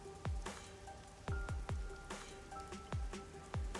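Rain falling in the neon-lit Kamasaki District streets of the video game Master Detective Archives: Rain Code, a steady patter with several sharp drip-like knocks recurring through it.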